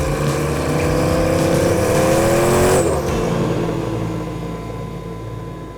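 A hypercar's engine drones loudly down a race track, climbing in pitch through the gears, then a sharp shift and a fading pass as the car pulls away. Nobody speaks.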